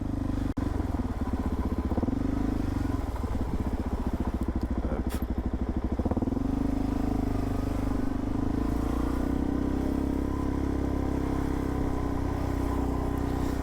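A Suzuki DR-Z400SM motorcycle engine drones steadily at close range, briefly revving and rattling before settling into a smooth, constant hum while riding.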